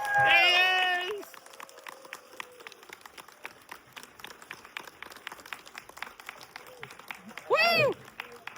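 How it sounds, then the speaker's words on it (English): An audience at a film screening Q&A applauds the director of The Running Man with loud whoops and cheers at the start, then scattered, fairly soft claps continue, and a second loud shout breaks out near the end. "Please give a big round of applause to the director of The Running Man, Edgar Wright."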